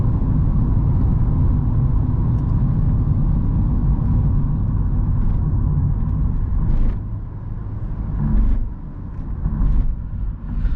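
Steady loud rumble of road and tyre noise inside a Renault Megane 3 Business HB 110 HP running on LPG over cold asphalt in heavy traffic, dipping briefly near the end.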